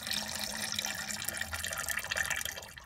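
Coolant runs from a loosened radiator bleeder valve on a Subaru engine in a VW Syncro, a faint, steady trickle of liquid splashing throughout.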